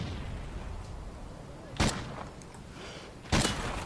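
Two sharp, loud sniper rifle reports from Call of Duty Ghosts ring out about a second and a half apart over a constant rumbling game background.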